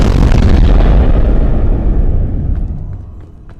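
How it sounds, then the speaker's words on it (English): A loud dynamite explosion in the video game PEAK, a broad booming blast that lasts its full length and slowly rolls off into a fading rumble. "This explosion's gonna be loud."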